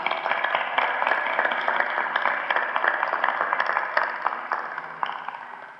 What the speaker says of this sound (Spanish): le damos la bienvenida con un aplauso.